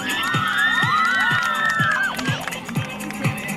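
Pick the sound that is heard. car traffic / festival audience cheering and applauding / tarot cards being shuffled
festival audience cheering and applauding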